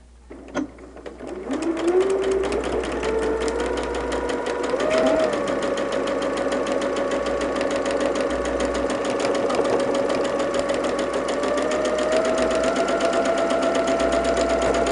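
A sewing machine stitches a quarter-inch seam on a quilt block, running steadily and close for most of the stretch with a continuous whirring drone.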